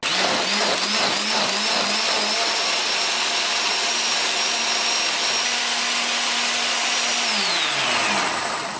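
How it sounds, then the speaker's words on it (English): Blender pureeing a guava pepper sauce with ginger, a loud continuous motor whine that shifts pitch as the contents smooth out and then winds down near the end. "I'm gonna put it into my blender and puree it"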